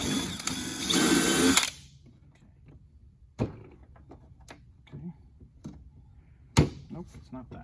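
A power drill whirs in a loud burst for a couple of seconds, drilling a hole in metal to install a diesel heater, then sharp clicks and knocks of tools follow with sparse quiet talk.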